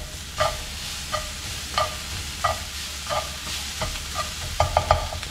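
A spoon stirs a mixture seasoned with seasoning powder and salt as it fries in a pan, scraping about ten times in a loose rhythm over a soft steady sizzle.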